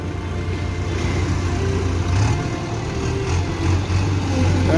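A JCB machine idles at a roadside loading site with tractors parked nearby, giving a loud, steady low engine rumble throughout with a slight swell partway through.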